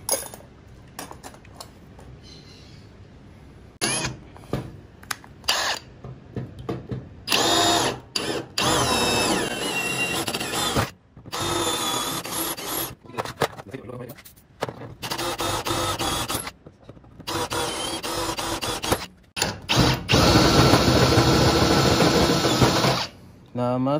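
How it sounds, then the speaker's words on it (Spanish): A power drill bores a hole through metal for a bolt while building a sliding door, whining in several close bursts with short pauses between them. "lo que yo voy a hacer es hacer un agujero para que el perno sobrepase"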